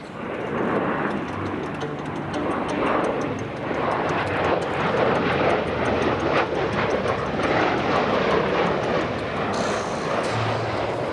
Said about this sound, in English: Ladies and gentlemen, presenting the V22 Osprey.